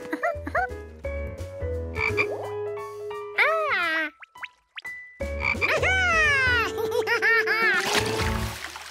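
Cartoonish croaking from a toy frog, several bouncy warbling croaks with sliding pitches and playful boings, loud and near, with a short pause midway.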